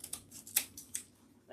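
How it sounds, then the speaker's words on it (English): Scissors snipping off excess ribbon while making a ribbon wreath, a few quick faint crisp snips spaced irregularly, close and quiet. "I'm just going to go ahead and cut the excess off"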